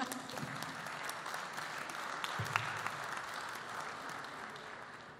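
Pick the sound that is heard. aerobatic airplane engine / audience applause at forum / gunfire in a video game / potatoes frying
audience applause at forum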